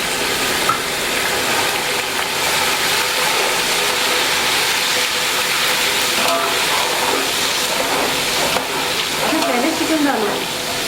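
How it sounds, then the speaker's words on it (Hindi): Garlic ginger paste frying in oil for chicken pulao, a loud continuous sizzle with occasional stirring scrapes nearby. "बस फ्राई करती इसमें चला जाएगा लहसुन अदरक का पेस्ट।"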